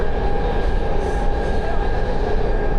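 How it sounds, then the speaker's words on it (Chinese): A modern Italian passenger train rides through Milan, heard from inside as a constant, fairly loud rumble of wheels on track with a steady tonal whine and no talking. "意大利火车还挺新的啊，比英国强太多了"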